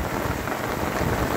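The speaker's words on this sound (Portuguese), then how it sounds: "Chuva caindo, chuva caindo." Steady rain falling in the Bahia backcountry, a dense continuous patter of drops on surfaces, moderately loud with no talk.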